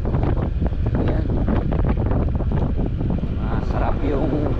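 Strong, constant wind buffeting roars across the microphone while riding a Honda ADV 160 scooter on a rural road, loud and unbroken with no clear talk.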